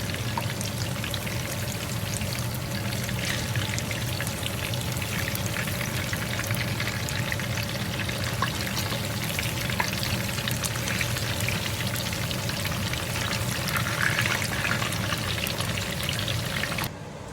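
Stuffed tofu blocks frying in a pan of oil after being flipped, a steady, dense crackling sizzle that holds evenly throughout without talk.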